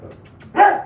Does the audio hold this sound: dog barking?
yes